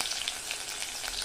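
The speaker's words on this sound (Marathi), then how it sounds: "आता त्याच्यातच आपल्याला राई टाकायची आहे" Mustard seeds crackle and sizzle in hot oil for a sambar tempering, a dense bright hiss with scattered tiny pops, close and steady over a short moment.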